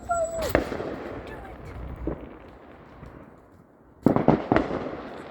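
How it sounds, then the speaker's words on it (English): Outdoor fireworks go off at a distance: a rising whistle and a sharp bang open the scene, a lone thump follows, then a quick cluster of crackling bursts. "Do one firework."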